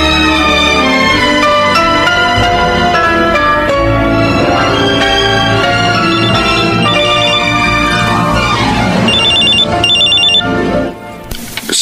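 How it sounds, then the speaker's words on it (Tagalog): A telephone ringtone plays loudly and continuously in a Filipino drama scene, a melodic repeating ring that cuts off near the end. "Si Sir Julius ang tumatawag"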